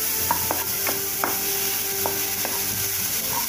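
Onions and green chillies sizzle in a pan while being sautéed for mushroom masala, a steady frying hiss broken by several sharp spoon scrapes and taps against the pan, with no talking.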